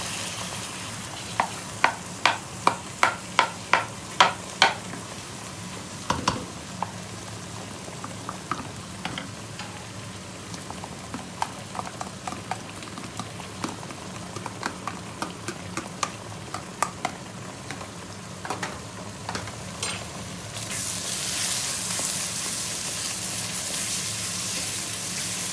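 Egg and chickpea masala with yogurt fries in a pan under a soft, steady sizzle, punctuated by a run of sharp spoon taps and scraping stirs. A louder hiss rises toward the end.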